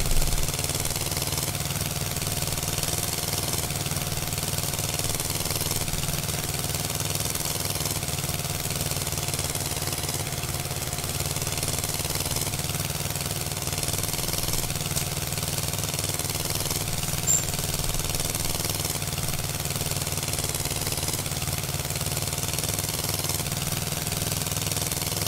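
An Eicher 241 tractor in Farming Simulator 22 runs hot while pulling a load, its engine holding a steady, unbroken drone from start to finish, with no voices over it.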